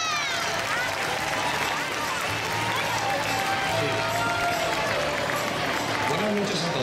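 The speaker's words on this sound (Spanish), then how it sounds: "¿Le damos un fuerte aplauso?" A large outdoor crowd at the Three Kings parade in Dénia claps in a steady, dense wash of applause and cheering, continuous and fairly loud throughout, with voices mixed in.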